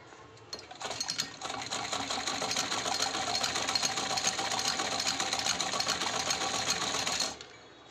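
A sewing machine runs a steady, continuous stitch along the edges of a cloth cover, with fast regular mechanical chatter held for about six seconds. It starts with a short stutter, stops abruptly, and is close with no talking.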